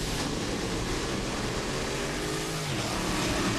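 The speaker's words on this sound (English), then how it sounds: "Dave DeAngelis can feel this here at his home track with that supercharged car." A supercharged Top Alcohol Dragster engine at a drag strip, a loud, dense, continuous roar with no talk over it.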